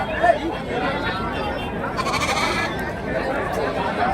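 Goats and kids at the Karimangalam goat market bleat amid a steady crowd murmur, with one short bleat standing out near the start over continuous busy chatter.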